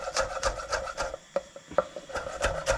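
A blunt knife sawing through lobster or steak, a rhythmic rasping back-and-forth scrape at close range, about ten strokes with a brief pause in the middle.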